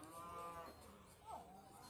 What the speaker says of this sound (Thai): ควายเริ่มคุยกันแล้ว